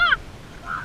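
A goose on a shoreline gives a short, close honking squawk, then a second fainter honk follows after a brief pause.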